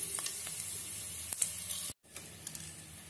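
Whole cardamom, caraway and cloves dropped into hot oil for a spicy chicken dish, giving a soft continuous sizzle and hiss with a few sharp crackles and one brief cut to silence.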